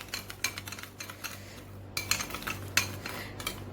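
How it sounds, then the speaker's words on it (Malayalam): Orange chicken being stirred with salt in a pan, a spoon scraping and clinking against the metal in quick uneven strokes, close and moderately loud, with no talking. "ഇത് നന്നായി മിക്സ് ചെയ്യാം."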